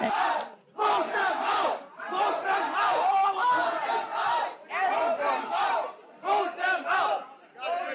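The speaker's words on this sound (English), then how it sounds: "some of the crowd chanted, "Vote them out."" A crowd of parents at a school board meeting in Dearborn, Michigan chants a short slogan in loud, rhythmic unison, repeated phrases separated by brief gaps, echoing indoors.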